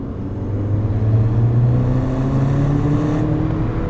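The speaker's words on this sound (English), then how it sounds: "Let's start from 30 miles an hour and take it up to 60 on this road." A Mini John Cooper Works GP (GP2, 2013) accelerates hard from 30 to 60 mph on an open road, its engine note rising steadily and loud throughout, with a constant droning tone climbing in pitch and no talking.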